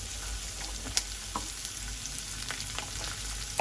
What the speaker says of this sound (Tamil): இதோட வந்தாங்க சீரகம் போடுவோம் பெரிய சீரகம்